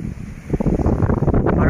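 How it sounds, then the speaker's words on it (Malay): Strong wind buffeting the microphone on an island, a loud continuous rumbling roar with gusty surges throughout. "Angin pun kuat lah dekat sini."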